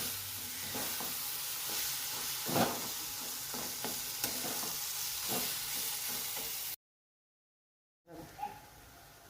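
Chopped onion with brinjal sautés in a pan, giving a steady close sizzle with scraping stirs, then cuts out briefly before a softer sizzle returns.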